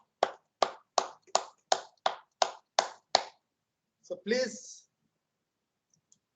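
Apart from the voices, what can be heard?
group hand clapping warm-up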